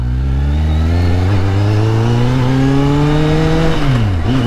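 A Kawasaki Z800 motorcycle engine revs up steadily and loudly close by, its pitch climbing smoothly before dipping and catching again near the end, with no voices over it.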